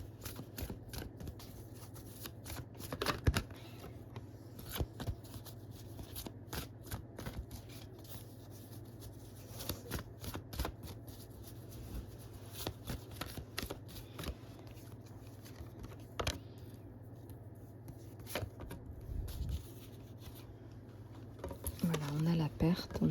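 Oracle cards are shuffled by hand during a love reading, giving repeated soft riffling and slapping bursts in an irregular rhythm, fairly quiet and close, beneath a low steady hum.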